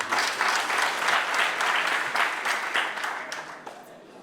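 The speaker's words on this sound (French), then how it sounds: "Vous pouvez applaudir pour vous-même" An audience applauds at an anniversary ceremony, a dense, steady wash of many hands clapping that holds for several seconds before thinning out at the end.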